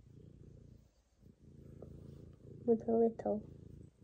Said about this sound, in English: Here's the purring.